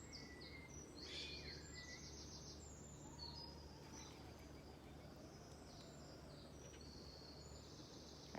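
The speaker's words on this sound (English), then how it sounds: "there's so much birdsong around me" Birds chirp and sing in bursts of high twittering calls throughout, some near and some distant, over a steady low hum of background noise.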